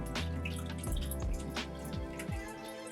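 Water trickles and splashes as an aquarium refugium sump fills up for a Red Sea reef tank, a close, quiet gurgle with drips and bubbling pops over a low hum, no one talking.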